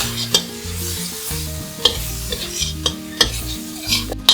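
Vegetarian miso ramen ingredients stir-fry with soy sauce, salt and pepper in a pan, a loud close sizzle with repeated spatula scrapes and clinks at a brisk, uneven pace, no voices.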